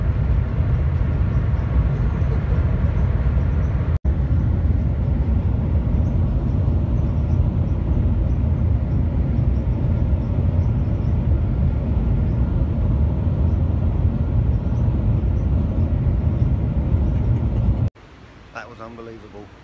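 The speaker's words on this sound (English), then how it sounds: "Just about to board this train, which is the fastest public transport in the world." Riding the world's fastest public transport train at high speed gives a loud, constant rushing rumble that holds steady for most of the stretch, then drops sharply near the end.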